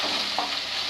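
Onions sauté in a pan for matar ghugni, a brief, steady hiss of frying with a soft stir partway through.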